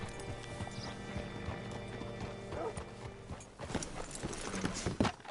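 Horse hooves clip-clop in an irregular rhythm alongside a brief whinny in the Western video game Red Dead Redemption 2, set against layered ambient game sound that grows busier toward the end.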